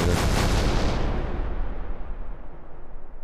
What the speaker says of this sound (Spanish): esto es artillería enemiga